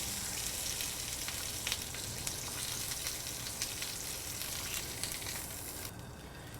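A burger patty pressed down with a spatula on a flat-top griddle sizzles loudly and steadily, a dense crackling hiss that fades slightly at the very end.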